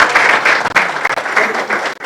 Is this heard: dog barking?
no